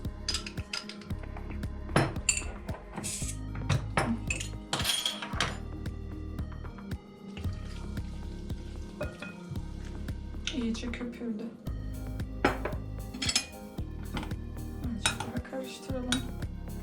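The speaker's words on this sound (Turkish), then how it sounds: "Hemen maden suyumuzu ekleyelim." Squid and mineral water being stirred in a bowl produce repeated clinks and scrapes of utensil against dish in uneven bursts, close and fairly loud, with voices talking over them.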